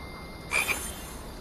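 A single short frog croak from a hidden object video game sounds once over quiet background ambience, brief and fairly clear.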